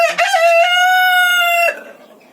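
A backyard rooster on a winter farmstead crows loudly and close, one long sustained cock-a-doodle-doo preceded by a few short clucks, then fading into quieter background.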